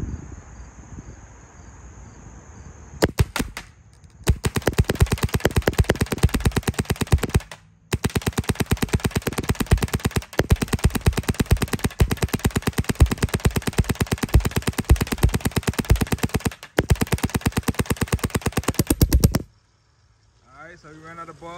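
Freak XL paintball marker with a boom treated barrel and 0.682 insert firing rapid bursts, a dense machine-gun rattle of shots in several long strings separated by brief pauses, loud and close, with a cricket-like chirp before and after.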